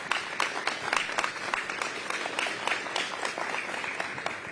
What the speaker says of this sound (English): A round of applause for our friends at ATCO.